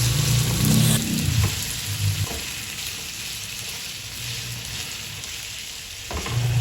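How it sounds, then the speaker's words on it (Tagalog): Fried chicken pieces being stirred in a sizzling pan for chicken adobo, with steady frying hiss and bursts of scraping as the spoon moves through, close and alone. "Add na natin yung chicken na pinrito natin. Mix natin ng mabuti."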